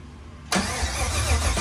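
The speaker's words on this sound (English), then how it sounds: "Want to hear it crank? Yeah, let's hear it crank." A ZL1 engine in a 1993 Chevrolet Silverado cranks over on the starter with its fuel disconnected, a loud, steady mechanical churning that kicks in abruptly after a short quiet moment and runs without pause.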